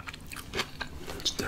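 Crisp bites and crunching into a raw fennel roll, a handful of sharp crackly snaps up close with chewing between them.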